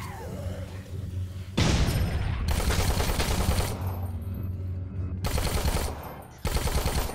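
Heavy automatic gunfire mows down zombies in Dead Rising 4, loud sustained bursts rattling close by with brief breaks between them, and little else audible over the shooting.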